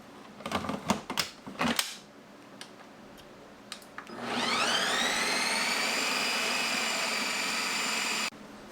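A Ninja CREAMi ice cream maker spins up with a loud, steady motor whine that climbs in pitch and then holds while processing mango sorbet, preceded by a few sharp clicks and knocks before it cuts off abruptly.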